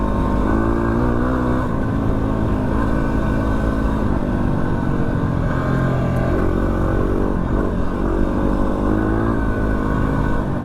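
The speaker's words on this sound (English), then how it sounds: "WR's is the best bike to be out here on" Yamaha WR dirt bike riding across the Simpson Desert, its engine droning loud and steady for the whole stretch with constant wind and road rumble mixed in.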